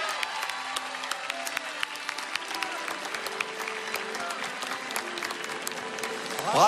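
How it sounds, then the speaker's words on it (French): A crowd at the Vincennes racecourse applauding the podium of the Critérium des 4 ans trotting race, steady moderate clapping with some talk mixed in, swelling slightly at the end. "on peut applaudir notre podium du Critérium des 4 ans"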